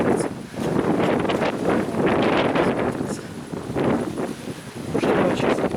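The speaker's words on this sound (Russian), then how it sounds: "Опять ветер сильный мешает говорить." Strong wind buffeting a microphone outdoors on a walk, loud rumbling gusts that surge and ebb throughout, with no clear speech.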